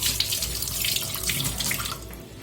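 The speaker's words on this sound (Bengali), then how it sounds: "আগে হাতটা ধুই" Water runs steadily from a kitchen tap into a sink as hands are washed, a close, even splashing rush with no voices.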